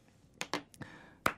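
A few sharp hand claps in a quiet radio studio: four distinct close claps spread over about a second, crisp and isolated with no talking.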